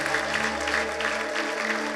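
A church congregation applauds steadily for Jesus, with dense, continuous clapping and high ululation swelling through a large hall during worship.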